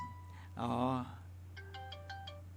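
A telephone ringtone from an incoming call chimes a short run of melodic electronic notes at moderate volume over a steady low hum, after a brief burst of voice.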